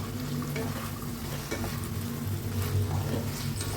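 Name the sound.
stirring fried potatoes in pan for Kashmiri alur dum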